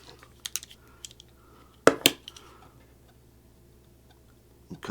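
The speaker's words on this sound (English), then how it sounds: "and cut back the center connector here, the shielding." Coaxial cable shielding being cut back with a small tool while fitting a PL259 connector, heard as a few sharp close snips and clicks, the loudest pair in the middle, with quiet handling between.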